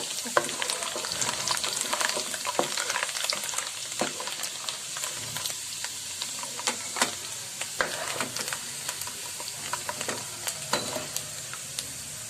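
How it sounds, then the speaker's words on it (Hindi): Almonds frying lightly in a pan for carrot halwa, a soft, steady sizzle with frequent small clicks and taps of stirring throughout. "अंदर मैं अपने ये बादाम फ्राई करने लगी हूँ।"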